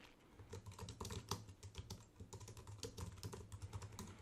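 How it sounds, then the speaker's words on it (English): Steady, rapid typing on a computer keyboard, close and clear, with a quick irregular run of clicking keystrokes and no voices. "I'm just going to type"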